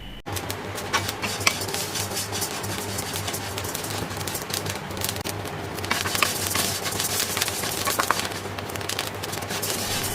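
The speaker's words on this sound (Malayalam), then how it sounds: "ഇതുപോലെ അരി പൊട്ടുന്ന ഒച്ചയെല്ലാം കേൾക്കും" Rice roasts in a pan over medium flame, giving a dense, continuous crackling and popping close up, with scattered sharper pops and occasional scraping as it is stirred.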